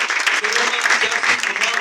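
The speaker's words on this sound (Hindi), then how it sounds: "यीशु के जलाल के लिए जोरदार ताली।" Loud congregational clapping during a Sunday church service, a brisk dense burst of many hands lasting under two seconds.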